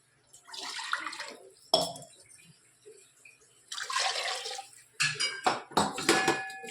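Leftover soaking water from pigeon peas (tuvar) is poured into a cooking pot for tuvar dhokli, giving several splashing, gurgling bursts with clinks of the vessel between short pauses.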